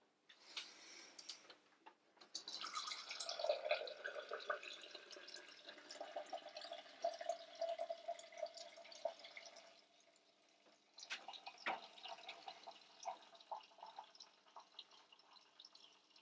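Beer pouring from a Beer Monster home dispenser gives a faint, close trickle and fizz with small drips and clicks. The flow runs steadily, eases off briefly, then resumes.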